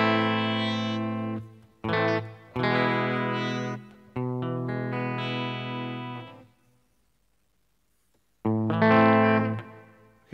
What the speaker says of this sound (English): The parallel humbuckers are of course the most powerful signal coming out from the guitar, so it is best for the high gain sound.